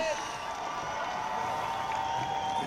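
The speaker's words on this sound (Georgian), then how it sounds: "აპლოდისმენტები" At a drift championship final, a crowd applauds and cheers in a continuous wash of clapping and shouting heard from a moderate distance.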